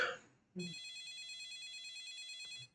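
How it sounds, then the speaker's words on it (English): An office telephone rings in the game Tantei Jinguji Saburo. It gives a bright, continuous electronic trill for about two seconds, and brief voice sounds come just before and after it. "So the phone is ringing."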